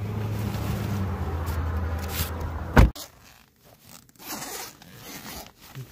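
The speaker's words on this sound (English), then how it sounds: "so let's get it zipped up" Zipper closing on a food delivery bag: a long, continuous zip under steady background engine rumble, ending in a sharp snap, followed by quieter rustling and handling.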